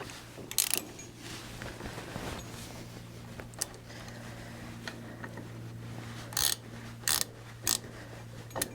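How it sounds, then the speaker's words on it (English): Ratchet clicks come in short bursts while bolts are tightened on Farmall 140 cultivator arms, set against a steady low hum, with several sharp quick runs of clicking near the end and no talking. "Let's tighten up on these a little bit here."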